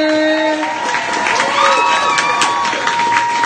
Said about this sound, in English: Round of applause one more time.